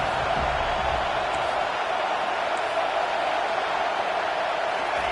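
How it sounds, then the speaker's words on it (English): A home crowd roars steadily at a football game as the defense tries to get off the field on third down, a dense, distant wash of cheering with no breaks. "Here comes this home crowd as the defense tries to get off the field on 3rd down."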